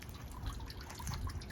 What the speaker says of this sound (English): dripping down into this one